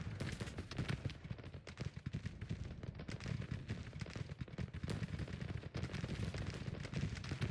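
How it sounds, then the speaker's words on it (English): Massed musket volleys crackle in the Civil War strategy game Grand Tactician, a dense, continuous rattle of overlapping shots, quiet and distant rather than close. "I have to keep on withdrawing back away from the accurate line, the accurate gunfire from Hampton."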